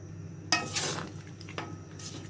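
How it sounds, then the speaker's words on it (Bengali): Chopped garlic drops into a pot of cooking duck curry with a sharp clink of a utensil against metal, followed by soft stirring scrapes and a brief second clatter, fairly quiet. "এই পর্যায়ে আমি রসুন কুচি দিয়ে দিচ্ছি"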